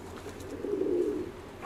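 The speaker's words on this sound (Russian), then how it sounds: "у меня несколько пар живет голубей" A pigeon gives one soft, low coo up close, with faint background noise around it, in a home pigeon loft that houses several pairs.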